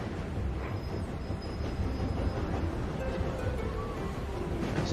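A long train in the Tiny Rails video game gives off a steady, even rumbling drone with no breaks, moderately loud and unchanging throughout.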